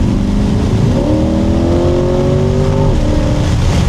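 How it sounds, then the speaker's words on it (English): A 495-horsepower Chevrolet C8 Corvette Z51 engine climbs in pitch as it accelerates hard, loud and close, over constant road and wind noise, easing off near the end. "Man, I love that engine slap."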